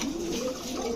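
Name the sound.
black English Fantail pigeons cooing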